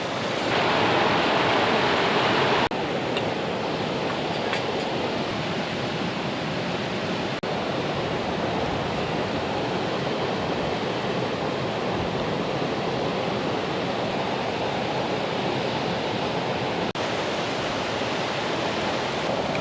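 Waterfall beside a riverside tarp camp in cold weather, a steady, loud broadband rush of falling water that runs unbroken throughout, with no voices over it.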